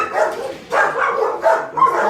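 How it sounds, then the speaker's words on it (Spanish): Dogs barking close by in a garden setting, three loud, clustered barks with yelping edges in quick succession. "las perras son vigilantes"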